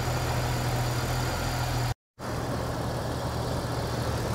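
A 1997 Jeep Wrangler TJ engine idles steadily through a newly installed exhaust with a low, rumbling drone, briefly cutting out for a moment before continuing.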